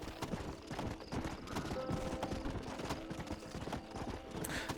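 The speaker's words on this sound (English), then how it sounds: "Agora tem um cavalo de uma polícia. Ah, parece ser mais rápido esse cavalo." Hooves of a police horse gallop in Red Dead Redemption, a fast continuous clip-clop rhythm that stays moderately loud and fairly close, layered over game ambience with no talking.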